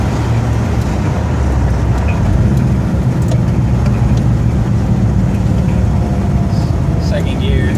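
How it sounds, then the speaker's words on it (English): Ford F100 pickup with a 302 V8 pulling through the revs on the road, a loud, steady engine drone filling the whole stretch without a break. "Get through the light. Get an RPM pull here."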